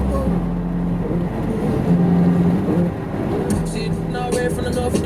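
A 1986 Nissan 720 pickup with a turbocharged KA24DE engine accelerates from inside the cab, its engine drone rising in pitch and shifting, with faint clicks and road noise near the end.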